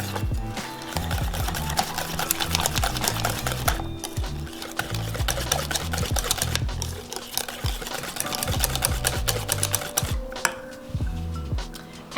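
Eggs being mixed quickly into warm chocolate cake batter, a rapid rhythmic tapping and clatter of a whisk against the bowl with wet stirring, steady and close, with no talk.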